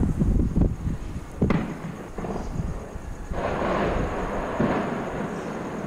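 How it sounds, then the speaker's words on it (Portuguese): Sharp, echoing gunshots crack out in the distance in Vitória, Brazil, a few irregular reports over a low rumbling background with no voices. "E de lá que vem o som de tantos tiros."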